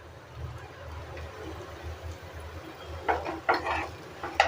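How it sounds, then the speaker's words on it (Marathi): Potato bhaji for a fasting meal being stirred in a pan, with scraping and clinking spatula strokes that pick up toward the end over a low steady background hum. "तर परत आपल्याला हे परतून घ्यायचं आहे"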